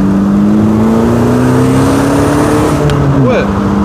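A smoky diesel car accelerates, its engine drone climbing steadily in pitch and staying loud and close, with a brief wavering near the end.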